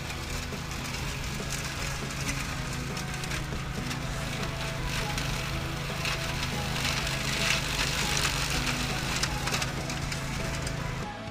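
Brush Rover machine cutting through dense willows six to eight feet tall, with a steady engine drone and continuous crackling and snapping of branches throughout, loud and close, with no talking.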